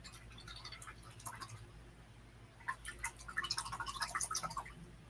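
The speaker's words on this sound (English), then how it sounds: "So let me rinse out my brush." A paintbrush is swished and rinsed in a container of water, giving soft, quiet dripping and sloshing that grows busier toward the end, close by and without speech.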